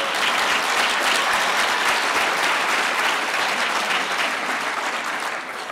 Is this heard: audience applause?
yes